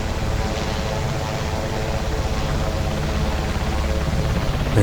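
Sikorsky Sea King SH-3 helicopter taking off in the X-Plane flight simulator at Rome Fiumicino, a steady, loud, dense rotor and turbine roar that holds constant throughout with no talk.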